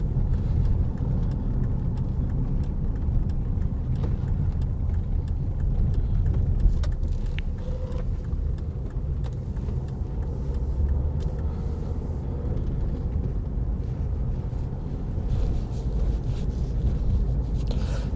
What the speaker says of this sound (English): that was a little drive around Chartham on a bleak Sunday afternoon